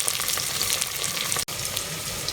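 Okra (bhindi) frying in a pan for masala bhindi, a loud continuous sizzle and crackle of hot oil that holds steady the whole time, broken only by a brief gap.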